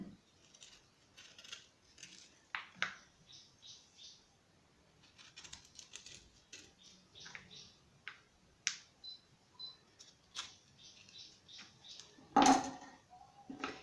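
A knife trimming the bad part from a halved avocado, quiet scattered clicks and short cutting taps with one sharper knock near the end, faint and close.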